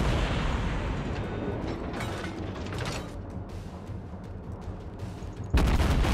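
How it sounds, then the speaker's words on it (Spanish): Naval cannon fire from the World of Warships game, with a Baltimore cruiser in play: a steady, dense mechanical rumble and rattle of distant gunfire runs throughout, ending in a sharper, louder burst near the close. "Ahí va otra ráfaga, si no me equivoco."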